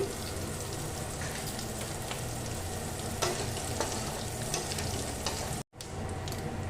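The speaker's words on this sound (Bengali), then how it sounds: "এবার ওই তেলের মধ্যে দিয়ে দেব আমি গোটা জিরা ফোড়নে" Whole cumin seeds tempering in hot oil crackle with a dense, continuous close-up sizzle, with a few scattered pops and a brief dropout near the end.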